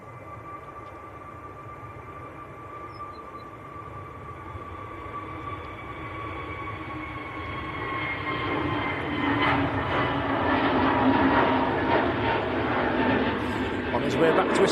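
A Pegasus Airbus A321neo departs Manchester Airport, its engine roar building steadily from faint to loud and rumbling, with a voice talking over it.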